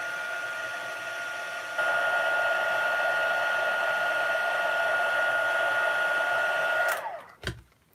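A heat tool blows steadily while melting embossing powder for stamping, a constant whooshing hum that steps louder partway through, then clicks off and winds down abruptly near the end.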